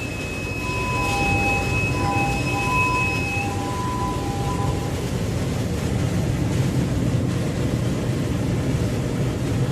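A MAN B&W 6S60ME-C Mk 8.2 marine diesel engine runs in a loud, steady low roar. Thin high whines and tones come and go over it in the first few seconds, and nobody speaks.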